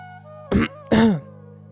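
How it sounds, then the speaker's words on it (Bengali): Two short, close throat clears, the second longer and heavier, in an otherwise quiet indoor room with a low steady hum behind them. "আমি গলা পরিষ্কার করলাম"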